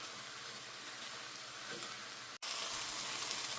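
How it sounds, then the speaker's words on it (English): Onions and garlic sizzle steadily in a hot pan, a dense, even crackle of frying with a brief break near the end before it resumes just as loud. "I'm going to cook this until the onions are soft and the garlic is fragrant."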